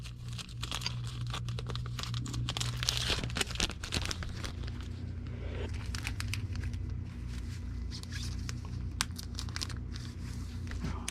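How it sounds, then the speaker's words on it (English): Comic book issues slid into a plastic bag, with crinkling and rustling of plastic in bursts near the microphone, alongside a steady low background hum. "We will put these in another bag."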